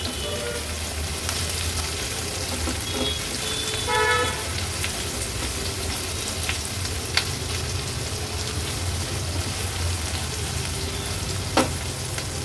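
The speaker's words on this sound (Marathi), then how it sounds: "थोडासा तेलावर परतून घ्यायचा आहे आणि हा कांदा आहे तो ॲड करूया" Chopped onion sizzles steadily in hot oil in a pan, an even, continuous frying hiss with occasional light clinks throughout, for an Agri-Koli style seafood thali.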